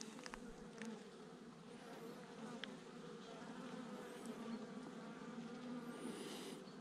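Honeybees hum in a steady, faint buzz from an opened nucleus hive with an unmated queen, with a few individual bees flying close by.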